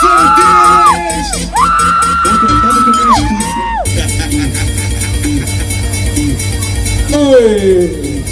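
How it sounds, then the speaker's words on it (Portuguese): Single women scream and whoop as a crowd at a party, loud and close over blaring dance music with a pulsing beat and sliding synth tones, shouts rising and falling through the mix. "Cadê o gritinho das solteiras?"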